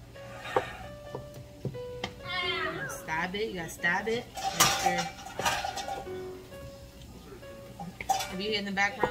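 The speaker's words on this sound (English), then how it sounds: "If you hear in the background, that's Deanna playing with the pots and pans" A young child bangs and clatters pots, pans and utensils on a kitchen floor while spaghetti is cooked, with irregular metallic knocks and scrapes, near and fairly loud, mixed with child chatter and adult speech.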